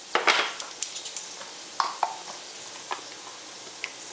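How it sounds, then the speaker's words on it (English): Tender vegetables cook in a pot for fish chowder, with soft sizzling under scattered spoon stirs and light clinks against the pot. "the vegetables have been cooking for 8 minutes now, and they're starting to get pretty tender"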